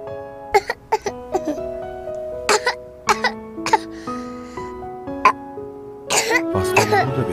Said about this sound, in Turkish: Neden öksürüyor acaba?